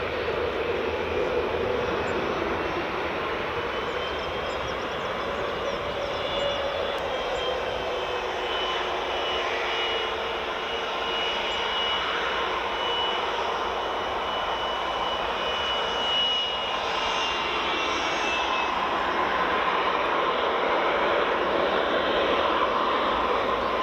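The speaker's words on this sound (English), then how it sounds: "that's the United 757 landed. 30-year-old 757, it is a beauty indeed" A 30-year-old United Boeing 757 airliner lands at Edinburgh Airport, its jet engines giving a steady, loud, broadband roar that holds for the whole stretch with no talk over it.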